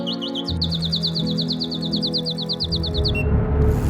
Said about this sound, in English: We should play a little bit of the bird song